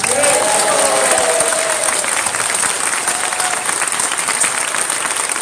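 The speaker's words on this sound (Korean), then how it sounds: "박수를 칠 준비를 한번 해주십시오" Audience applause at a Christian church leaders' forum, a large crowd clapping steadily and loudly throughout, with a faint voice underneath.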